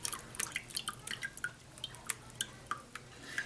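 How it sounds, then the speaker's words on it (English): Water drips steadily from a strained celery puree blended in a Nutribullet, each small drop landing in a clear, faint plink at an irregular, fairly quick pace, close up with no talking. "we've strained most of the water out of that"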